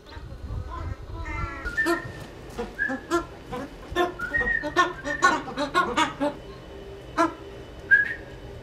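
A person whistles a series of short, bright notes and trills, with high chirping calls from hand-raised crested ibises answering in between, close and fairly loud.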